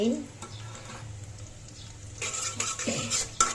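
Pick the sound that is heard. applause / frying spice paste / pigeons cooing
frying spice paste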